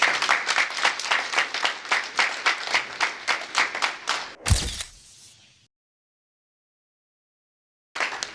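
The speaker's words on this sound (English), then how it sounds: "Give him another round of applause." Banquet audience applause, a steady run of rhythmic, close claps for about four seconds that swells briefly and then fades out into silence, with a short burst returning at the end.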